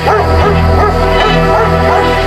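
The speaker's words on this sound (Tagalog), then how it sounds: "nagising siya sa walang tigil na mga tahol" A dog barks and yips repeatedly in a steady, insistent rhythm, close and loud over a constant low hum.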